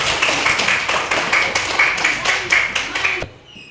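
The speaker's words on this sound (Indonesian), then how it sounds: "Tepuk tangan untuk kedua Muhammad Jafar dan Siti Nur Aisyah." Classroom clapping for two students: a quick run of sharp, steady claps from a group of children and teacher, close and lively, lasting about three seconds before cutting off abruptly.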